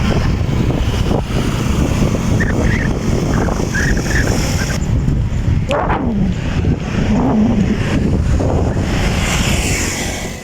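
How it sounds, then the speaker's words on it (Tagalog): Strong wind buffets the microphone with a constant heavy roar throughout, mixed with rushing water and engine rumble, no talking. "Lakas ng hangin dito."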